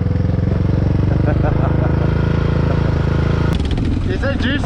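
A two-stroke dirt bike engine runs loud and close, its steady buzzing drone holding throughout, while a voice briefly joins near the end.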